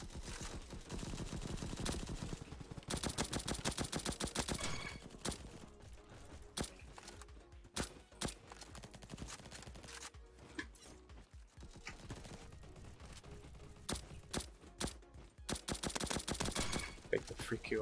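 Rapid automatic gunfire in the video game Bad Business, dense bursts of fast shots with brief pauses, loud and close throughout.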